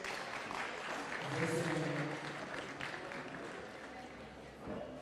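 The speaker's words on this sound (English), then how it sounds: "Round of applause for Faith, please." Audience applause at a combat-sports press conference as a fighter walks to the stage, a steady wash of clapping and crowd noise with a voice speaking over it.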